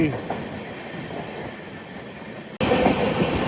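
The Seshadri Express, running its first LBH rake from Kakinada Town to Bengaluru, rolls past Anaparthi station with a steady rumble of wheels on rails, heard from on board, swelling suddenly louder near the end.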